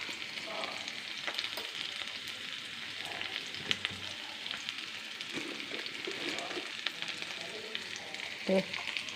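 Ground chilli and turmeric powder sizzling steadily in a pan of cooked soybean curry, a continuous close frying hiss with occasional stirring scrapes throughout.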